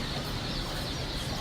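Bantam chickens cluck softly among rare-breed poultry at a hatchery in spring, faint and brief beneath a broad background hiss, with no talking.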